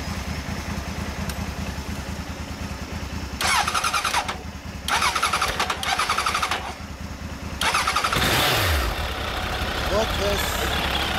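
A 2006 Suzuki Bandit 1200S motorcycle is cranked over and started, with short bursts of starter whirring before the engine catches, revs briefly and settles into a loud idle up close while people talk nearby.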